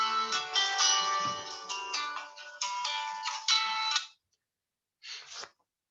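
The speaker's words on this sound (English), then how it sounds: "I need to take this phone urgently." A phone ringtone rings loudly in a melodic electronic pattern for about four seconds, breaks off, then gives one short final burst.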